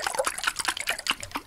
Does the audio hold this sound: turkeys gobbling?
no